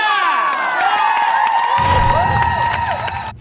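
A television talent-show studio audience cheers and claps for a singer, loud and bright with whoops and shouts, while music plays along throughout.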